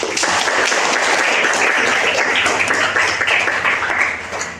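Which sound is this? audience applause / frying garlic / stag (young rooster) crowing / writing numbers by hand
audience applause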